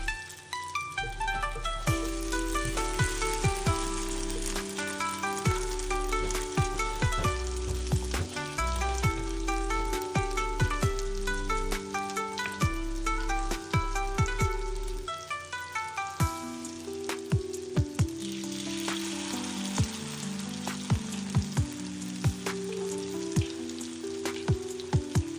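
Shrimp and vegetable egg foo young frying in oil, giving a steady sizzle that runs without a break from start to finish under a layer of tonal, music-like sound.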